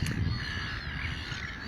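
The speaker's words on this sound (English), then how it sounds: "the seagulls are all saying hello to you" Black-headed gulls call over calm water, a continuous wash of harsh, overlapping cries at moderate distance, with no talking.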